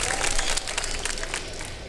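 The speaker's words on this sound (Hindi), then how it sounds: "तालियां तो बजाया ना फिर।" Studio audience applause during an iftar quiz show after a correct answer, a lively patter of many hands clapping at moderate loudness for about two seconds, with no talk over it.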